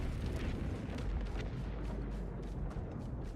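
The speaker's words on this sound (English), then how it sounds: "I had to do it for the explosions." Rapid, overlapping explosions and booms from a video game in the SQRL hardcore challenge, a dense rumbling barrage of blasts and bursts that carries on without a break.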